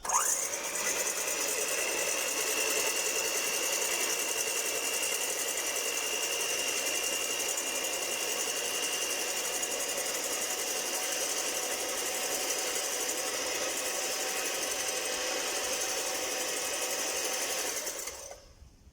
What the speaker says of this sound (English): We're going to beat the egg white just a little bit until it becomes frothy